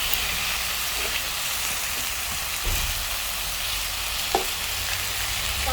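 Pork belly sizzling and frying in oil in a pan, served with minari at a family meal in Busan, a steady close crackling hiss throughout with a few brief louder pops.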